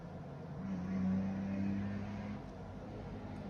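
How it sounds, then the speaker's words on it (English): A noisy car drives by outside on a city street, a muffled engine drone that swells and then eases off, heard from indoors at a moderate distance. "Sound like a toy car out there."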